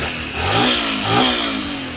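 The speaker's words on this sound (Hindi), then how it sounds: "ये देखो साइलेंट स्टार्ट हो जाएगी सिंपली।" A 2025 Yamaha FZS hybrid motorcycle engine starts and revs up twice in steady surges over a constant high hiss, close and fairly loud, with no talking.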